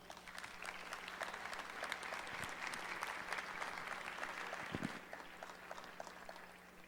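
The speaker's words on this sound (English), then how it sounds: "Please give him a welcome applause." An audience at an academic plenary gives welcoming applause, a broad, even wash of clapping that holds steady for several seconds and then thins out.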